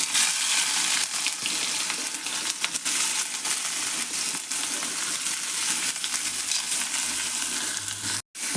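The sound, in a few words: chopped onions frying in oil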